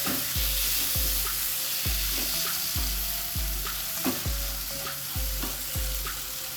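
Bitter gourd masala with tamarind paste sizzles in a pan while a spatula stirs and scrapes in a steady rhythm, about once every second, over a constant frying hiss.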